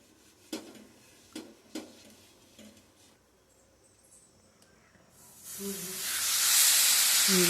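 A yellow corn rotti hits a hot, lightly oiled tava and sizzles, a steady hiss that swells loud after a few soft utensil taps.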